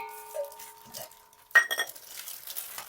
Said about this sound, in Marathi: इकडे बाजूला हे बघा, हे 3 पातेले